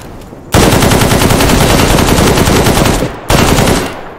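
Sustained, loud automatic gunfire in S.T.A.L.K.E.R. GAMMA as a mech suit is shot at, a dense continuous burst that breaks off briefly near the end and then resumes, with no talk over it.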